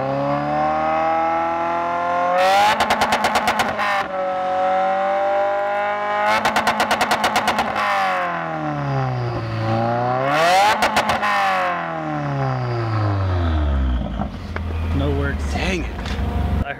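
A 2017 Subaru WRX with a catless exhaust revs hard in repeated long pulls, engine pitch sweeping up and down loudly with a raspy, droning tone and short bursts of crackle between revs.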